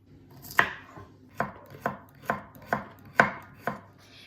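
Fresh radish sliced into rings with a knife on a cutting board, seven crisp, evenly spaced chops close up with short pauses between, no talking.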